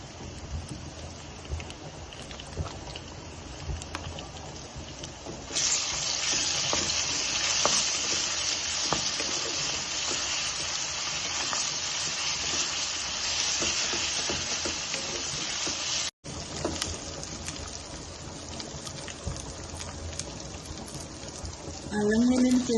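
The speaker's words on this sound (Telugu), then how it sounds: "ఈ విధంగా ఫ్రై అయ్యాక మనం అల్లం వెల్లుల్లి పేస్ట్ ఫ్రెష్గా కిందకి వేసుకోవాలండి" Ginger garlic paste fries in a pan in a home kitchen. A soft, rain-like sizzle jumps noticeably louder partway through and then holds a dense, continuous hiss with light stirring scrapes.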